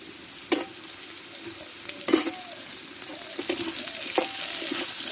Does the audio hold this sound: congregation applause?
no